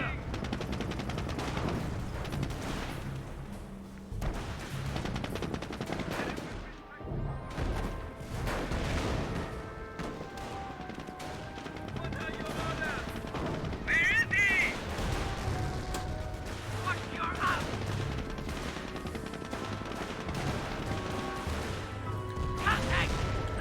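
Battle noise in the World War II strategy game Company of Heroes: steady crackling rifle shots and rattling machine-gun bursts run throughout with crashes and explosions, fairly dense and continuous, with a commentator's voice over the top.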